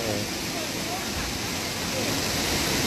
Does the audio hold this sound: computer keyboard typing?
no